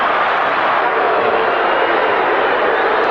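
A football crowd at a 1994 Geelong Cats match roars steadily as fans run onto the ground. The cheering is a dense, loud, unbroken wash of voices that holds for the whole few seconds.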